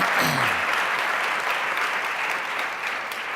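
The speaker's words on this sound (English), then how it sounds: "Please stand and let's give her a round of applause." An audience at an arts advocacy event breaks into sustained, dense applause that fills the room and holds steady throughout, with a brief voice at the start.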